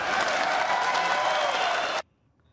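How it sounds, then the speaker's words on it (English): A large audience applauds steadily and densely for about two seconds at an event for President Trump, then the clapping cuts off abruptly into near silence. "That applause went on for quite a while."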